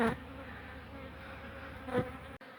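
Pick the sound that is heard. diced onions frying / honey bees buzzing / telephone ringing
honey bees buzzing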